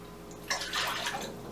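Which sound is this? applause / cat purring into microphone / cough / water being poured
water being poured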